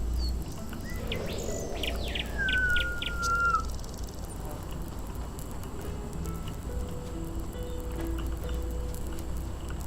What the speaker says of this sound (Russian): Птички.